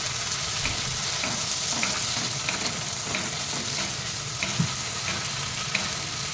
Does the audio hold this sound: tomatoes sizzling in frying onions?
yes